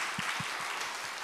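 Church congregation clapping during a worship service, a short, steady wash of applause at moderate level, with a few low thumps underneath.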